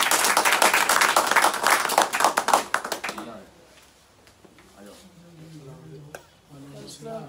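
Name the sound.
audience clapping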